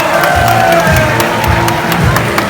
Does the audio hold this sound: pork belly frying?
no